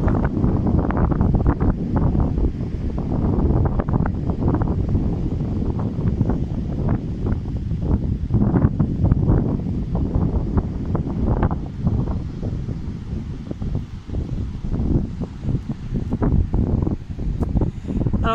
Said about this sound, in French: Désolé pour le vent, ça aussi.